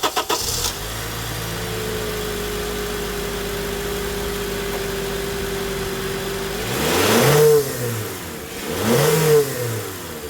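A 2009-2014 Acura TSX engine starts and idles steadily, then revs hard twice, the exhaust note rising and falling with each throttle blip.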